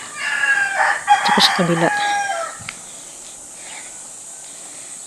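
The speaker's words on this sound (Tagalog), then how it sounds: "Legit na tilaok ng manok." A rooster in Laguna, Philippines crows once, loud and fairly close, its drawn-out call mixed with a brief spoken remark, then quiet background hiss.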